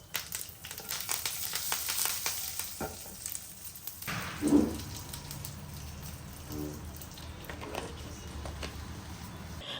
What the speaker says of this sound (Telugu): కొంచెం తాలింపు వేసి అందులో పప్పుల పొడి అంటే పుట్నాల పొడి వేసి